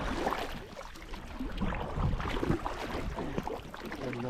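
Canoe rowed across Adirondack water while hunting, with soft paddle swishes and splashes mixed with wind noise close to the microphone, steady for several seconds without talk.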